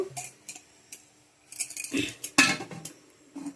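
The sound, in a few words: lid being put on a pot for mango cake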